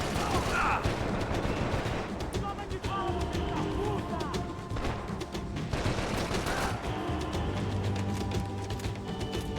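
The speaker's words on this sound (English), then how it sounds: "Where am I getting shot at from?" Gunfire in the video game Max Payne 3, with dense, continuous shooting and impacts filling the scene, a voice talking over it.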